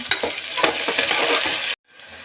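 Curry leaves crackle and sizzle loudly in hot oil with onions for tomato pulao, a dense close-up frying hiss with stirring scrapes, cut off abruptly to near silence before a fainter sizzle resumes.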